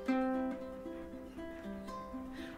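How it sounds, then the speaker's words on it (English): Ukulele strummed with steady down strums for a beginner's version of a song, bright chord strokes ringing close and fairly soft in a short, even rhythm with no voice. "If you can't do that, just strum four downs."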